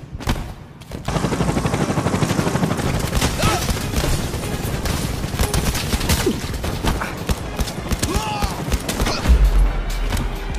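Rapid, dense gunfire in the video game Blood and Truth, with bursts of automatic fire and heavy thuds running almost continuously and loud, and a voice speaking briefly over the shooting.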